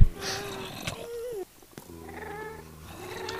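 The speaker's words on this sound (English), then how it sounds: "now my cat's meowing" A pet cat meows indoors, a short pitched call with a falling tone heard alone amid quiet room noise and game sounds, fairly close.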